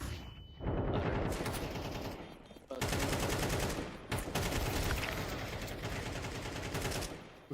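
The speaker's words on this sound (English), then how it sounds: "We're shooting at everything but him." Counter-Strike gunfire during a professional match, long rapid bursts of automatic rifle fire, loud and close, broken by brief pauses.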